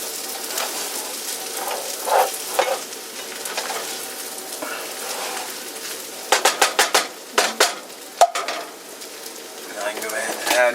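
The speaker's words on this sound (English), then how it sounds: "Now I go ahead and just stir it all up." Chicken fried rice stirred in a pan on a home stove: soft background sizzle broken by clusters of sharp spatula scrapes and clanks against the pan, several in quick succession near the middle.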